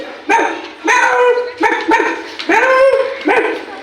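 A person's voice imitates a dog barking, four loud yapping barks in a row with short pauses between them.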